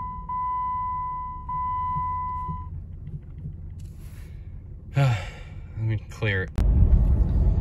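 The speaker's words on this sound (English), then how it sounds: "let's go ahead and crank her back up" A car with a steering angle sensor fault cranks and catches at the end, a sudden low, rumbling engine roar following a faint electronic chime and brief speech.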